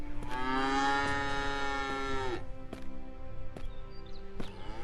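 Several long, loud cow moos close by, the first drawn out for over two seconds, followed by shorter calls with quiet farmyard background between.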